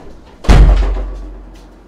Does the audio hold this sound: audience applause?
no